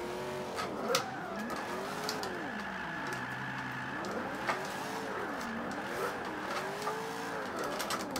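A BMW V8 car engine in the racing game Forza 5 revs up and down in repeated sweeping swells while drifting, with occasional tire squeal, steady and continuous without any talking.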